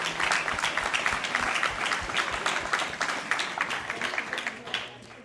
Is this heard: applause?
yes